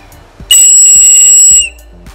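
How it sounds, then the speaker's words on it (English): A single shrill, piercing survival whistle blast lasting about a second, very loud and close, with quiet thumps before and after. "the whistle is loud, louder"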